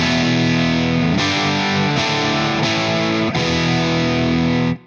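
A heavily distorted electric guitar through a Wampler Cryptid fuzz pedal on the bridge pickup plays thick sustained fuzz chords, changing a few times before cutting off abruptly at the end.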